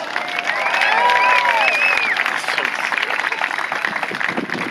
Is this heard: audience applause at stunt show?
yes